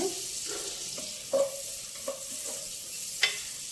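Onions frying in a pan for a mushroom and mixed vegetable curry, with a soft steady sizzle and several distinct scrapes and clacks of stirring at irregular intervals, fairly quiet, no talking.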